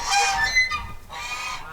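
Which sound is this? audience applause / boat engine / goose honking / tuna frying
goose honking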